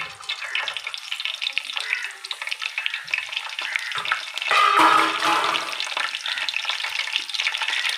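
Ginger-garlic paste frying in hot oil, a close, loud crackling sizzle that runs throughout and swells briefly in the middle.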